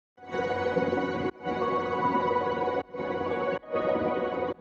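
An unprocessed atmosphere sample for a melodic dubstep remix, heard dry at its original pitch, plays as a dense sustained texture in four long segments with short gaps, alone and with no talk.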